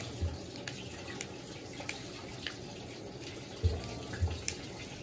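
Water runs into the drum of a Panasonic 14 kg cyclone-system washing machine (NA-F140B6) during a rinse with bedding inside, a soft steady rush with occasional small splashes and knocks.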